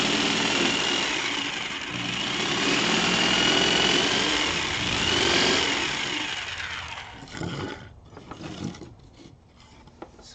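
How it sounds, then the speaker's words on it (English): A jigsaw cuts a straight channel between two drilled holes in wood for a synth cabinet, a loud continuous buzzing rasp that rises and falls for about seven seconds, then breaks into short stuttering bursts before stopping. "Now we're going to take the jigsaw out between the two holes so we got a nice straight channel."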